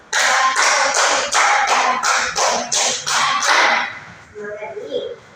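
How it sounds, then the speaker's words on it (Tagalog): Grade 4 students in a classroom give themselves a quick, loud run of about ten evenly spaced claps, then the room settles into faint murmuring voices. "Bigyan nyo ng 10 palakpak ang inyong mga sarili."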